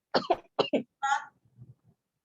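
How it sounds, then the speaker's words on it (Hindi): A burst of several harsh coughs in quick succession, close and fairly loud, trailing off into a softer throat sound and quiet murmur. "क्या हुआ, इतना खांसी क्यों आ रहा है?"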